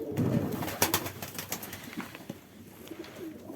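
Pet pigeons cooing soon after release, a few soft close coos and some rustling, with no talk.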